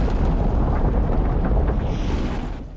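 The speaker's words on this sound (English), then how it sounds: "This explosion occurs in the lobby, making the sprinklers turn on in the room" A film explosion from the lobby scene of The Matrix roars as a loud, dense, rumbling blast that fades gradually toward the end, with no talking.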